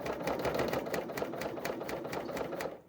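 A serger stitches and trims the fabric of a ribbed sleeve cuff, running as a steady close mechanical whir with a fast repetitive rhythm. It runs alone for about three seconds and then stops abruptly.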